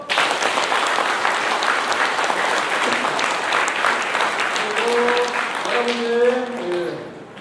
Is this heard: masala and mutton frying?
no